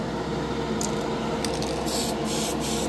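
A spray can of Tamiya lacquer paint hisses steadily while coating a model, with a continuous close airy spray across the whole stretch and a few brighter bursts as the nozzle moves.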